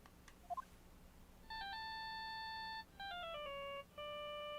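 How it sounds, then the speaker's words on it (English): A phone ringtone from the video game Phoenix Wright: Ace Attorney plays as clean electronic melodic tones in three short repeating phrases, fairly quiet over faint background hum. "And I bet it was this ringtone that caused it."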